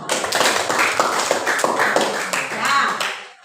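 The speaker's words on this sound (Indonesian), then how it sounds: "kita tepuk tangan untuk semua" A classroom of students clapping their hands together in unison during a lesson, brisk rhythmic claps close by that swell and then fade out at the end.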